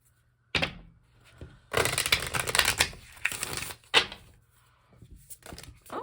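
Cards being riffled and shuffled close by: a short ruffle, then a longer crackling run of flicking cards with soft taps between, no voices.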